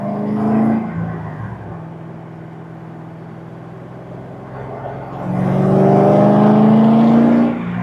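A Corvette C6 Z06 running on E85 cruises in traffic, its V8 droning at low revs from inside the cabin, easing off before swelling into a louder, steady engine hum.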